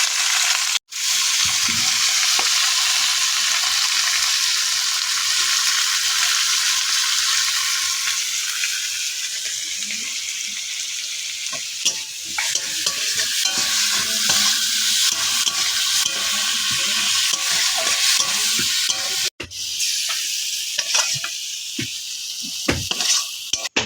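Shrimp frying in hot oil, a loud, dense crackling sizzle close to the pan that runs nearly unbroken, with occasional stirring clatter and no talk.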